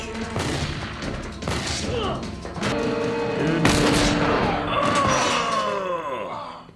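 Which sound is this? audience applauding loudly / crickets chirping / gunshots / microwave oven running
gunshots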